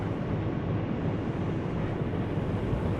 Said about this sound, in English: our ship's buoyancy is going down as the ballast tanks flood with water, reducing our buoyancy